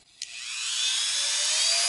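A Dremel rotary tool fitted with a chuck spins up quickly to high speed, producing a close, piercing high-pitched whine that rises and then holds steady after a brief click at the start.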